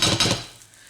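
A frying pan with pancake batter is tapped a couple of times in quick succession, close and clattering, then the ringing fades away.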